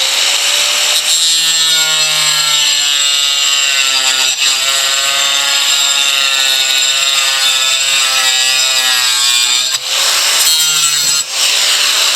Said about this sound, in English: piece of rock all cut